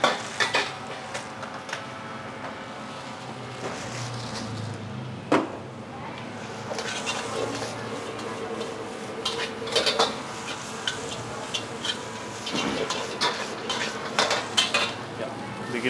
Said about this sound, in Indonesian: bikin mie goreng